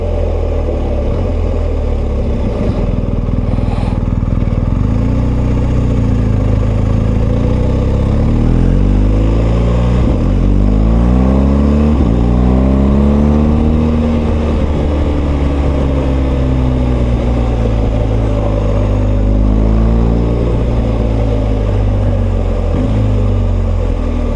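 A BMW R1250GS motorcycle engine drones steadily while riding, its pitch rising and falling through gear changes under continuous wind rush.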